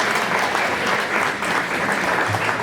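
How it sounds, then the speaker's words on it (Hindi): A roomful of attendees at a yoga information session applauds steadily, a thick, even burst of many hands clapping close by for a couple of seconds without speech. "तालियों की गड़गड़ाहट थोड़ी सी कम रही"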